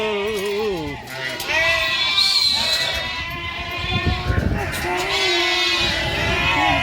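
A flock of sheep returning in a village, bleating repeatedly in wavering, overlapping cries from several animals at varying distances, with a person talking among them.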